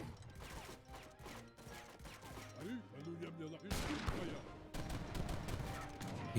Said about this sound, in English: these organ guns just go straight through these Huaracas